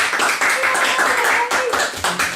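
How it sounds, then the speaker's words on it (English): A small group on a cosplay and food webcast claps, a brief burst of close hand claps in short uneven waves, with speech overlapping. "let's give her a round of applause for that one"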